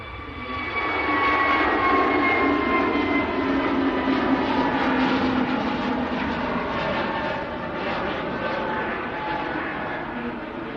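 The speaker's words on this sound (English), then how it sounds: "A350 lined up to go behind." Airbus A350 jet at Manchester Airport, a loud sustained roar of jet engines with a steady broadband rumble and faint whining tones, holding strong for the whole stretch before easing slightly toward the end.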